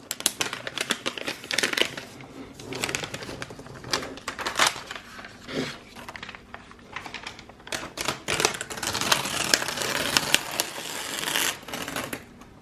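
Cardboard and plastic packaging for a MacBook Air M3 tears and crinkles in a long run of sharp, busy rips and rustles, close and fairly loud, with no voices.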